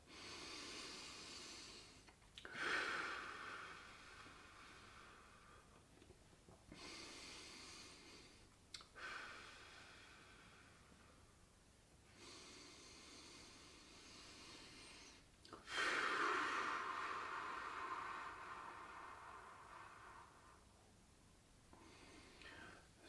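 Slow, deep breaths taken during seated gentle stretching exercises, several long inhale-exhale cycles with soft hissing air, fairly quiet and close, no talking.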